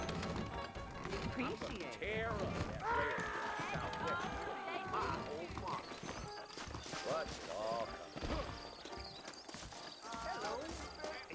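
Rhythmic clip-clop of horse hooves at a steady gait in the video game Red Dead Redemption, mixed with music and a brief whinny, while voices talk over it.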